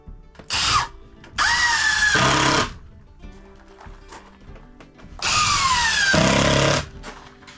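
A power drill drives screws into a shelf in three close, loud whirring bursts, two long and one short, each winding down in pitch, with quiet pauses between.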